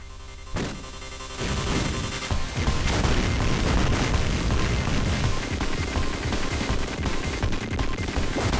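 Retro Contra run-and-gun game gameplay full of booming explosions and rapid gunfire, a loud, dense, continuous barrage that builds after a short opening and stays intense throughout.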